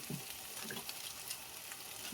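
Spice paste fries in a pan, a soft, steady sizzle with faint scraping and stirring sounds, fairly quiet and close.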